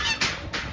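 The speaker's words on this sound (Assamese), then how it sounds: "এইফালে বহুতো হাঁহ পানীত চৰি থকা দেখা গৈছে" Ducks on a temple pond at Shivsagar's Borpukhuri, a couple of loud, close honking quacks in quick succession.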